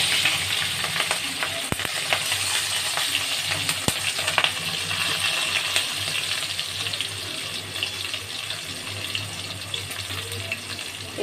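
Chopped tomatoes and torn green chilli hit a hot pan and sizzle in a dense, steady hiss, with a couple of sharp metallic clinks near the start, no voices.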